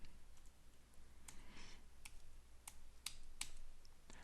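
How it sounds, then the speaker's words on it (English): Typing on a computer keyboard at the command line, a quiet irregular run of light key clicks with a few sharper taps, close but faint. "It's a little awkward typing all that at the command line"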